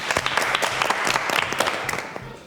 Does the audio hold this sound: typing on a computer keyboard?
no